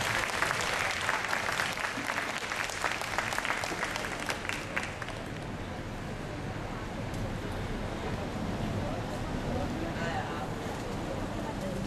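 Audience applause after the closing finale of Christmas carols at a Christmas celebration concert, dense clapping filling the room for several seconds and then thinning into a softer, steady wash of crowd noise.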